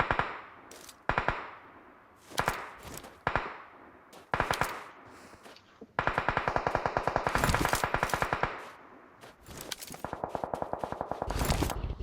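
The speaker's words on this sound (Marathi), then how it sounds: "रिटेलिएशन फायर आला." Retaliation gunfire in a video game: separate sharp shots at first, then long rapid automatic bursts, loud and close, with no speech.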